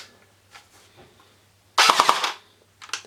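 A PPSh submachine gun under repair fires one short full-auto burst of several rapid, loud, close shots, with clicks and handling noises before and a brief rattle after.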